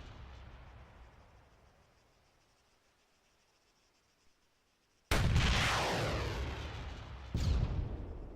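TOW missile and rocket fire in a video game: a quiet hiss fades almost to nothing, then two loud, sudden launches hit at once and roar on with a sustained blast.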